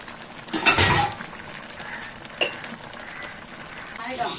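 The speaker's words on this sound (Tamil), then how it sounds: "உப்பு போட்டு கிளறி நல்லா கொதிச்சுக்கிட்டு இருக்கட்டும்." A ladle scrapes and knocks inside a pot of boiling brinjal kootu with salt added, a few metallic clinks over a steady bubbling simmer, fairly close with no talking.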